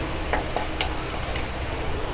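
Onion and tomato sautéing in a pan for a paneer mushroom masala, a steady close sizzle with a few scraping stirs, alone with no talk.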